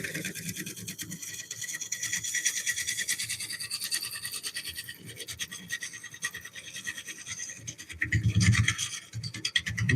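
A lathe gouge cuts across a crack in a walnut bowl turning at 600 rpm, producing a steady, dense scraping hiss with fine rhythmic chatter and a louder, rougher patch near the end.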